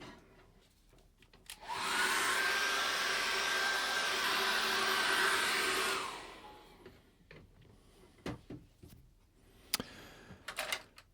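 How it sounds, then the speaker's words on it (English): A hair dryer blows on a fresh acrylic painting, a loud, steady whooshing whir that runs for about four seconds, then cuts off, followed by soft scattered clicks and taps. "I'm going to dry that off with a hairdryer."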